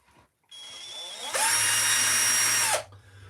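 A power drill used in woodcarving whirs up close, starting at a lower speed, then revving higher into a steady loud whine for over a second before spinning down, with no talking.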